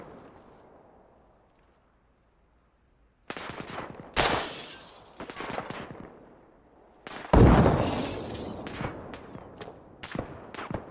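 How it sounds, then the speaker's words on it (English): Grenade launcher rounds landing in the Arma Reforger combat game, two heavy blasts that crack loud and close, each one trailing into scattered debris and rumble, with sharp gunfire snapping in between. "They're shooting grenade launcher rounds at us?"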